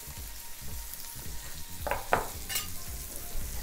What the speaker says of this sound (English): I'm gonna add our onions on this side of the grill and allow these onions to caramelize